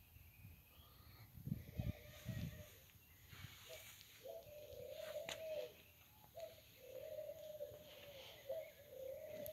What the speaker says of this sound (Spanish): los pájaros de cante y cante